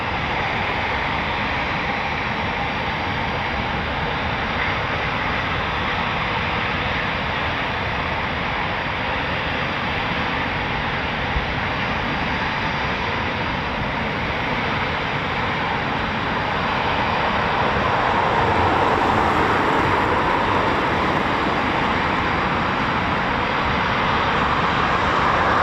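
Eurofighter Typhoon FGR4 jet engines at an RAF airfield with runway 25 in use, a steady, broad roar that holds loud for the whole stretch and swells slightly near the end, with no talk over it.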